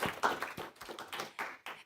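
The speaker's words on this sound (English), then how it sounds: "let's give Rafal a big round of applause" A seminar audience gives a brief round of applause for the guest speaker, about eight distinct, slightly uneven claps from a small group, close and without speech.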